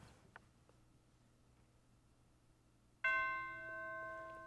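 A single bell stroke in Adam Gorb's Concerto for Clarinet rings out suddenly after a quiet stretch, loud and resonant with a long sustained ring fading slowly.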